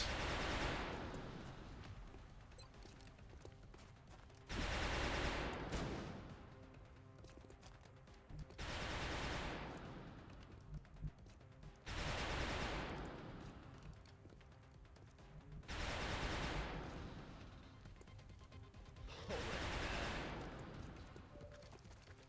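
Suppressive gunfire rolls through a Long War XCOM battle in repeated dense, loud bursts of several seconds each. Each burst is separated by a quieter gap.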